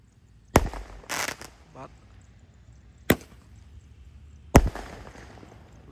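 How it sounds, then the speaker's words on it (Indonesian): Firecrackers set off ahead of Ramadan 2025 burst in three sharp, loud bangs spaced a couple of seconds apart, with quieter crackle between them and a voice counting aloud. "Menyalakan banyak sekali mercon petasan spesial all-in pemercon duniawi menuju Ramadan 2025."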